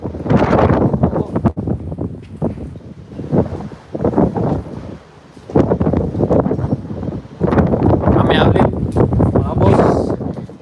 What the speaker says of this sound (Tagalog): Teka, lakas ang hangin.